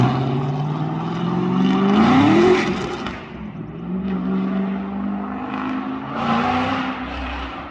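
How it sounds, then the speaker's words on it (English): A street-legal race car with a lumpy custom-ground road racing cam and straight-piped exhaust revs loudly up and down, its engine note rising in pitch and then settling into a rough, throaty idle. "And it's straight piped right now, which is way too loud for many tracks."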